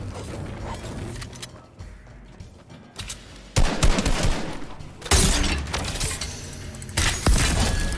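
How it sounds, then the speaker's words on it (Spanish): Gunfire rings out in a Fortnite match: rapid bursts of shots and impacts arrive in loud clusters, separated by quieter stretches of rattling game ambience, with no voice over them. "¿Disparando a alguien o es a mí a través del muro?"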